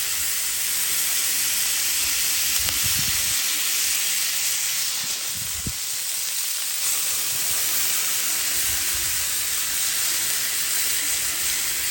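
Smash burgers sizzle steadily on a Blackstone griddle, a constant close hiss with a few brief louder spatters and scrapes partway through, no voices.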